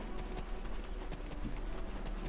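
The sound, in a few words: horse hooves clip-clopping in Black Desert Online video game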